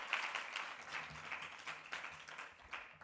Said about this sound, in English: Please give all of our students a round of applause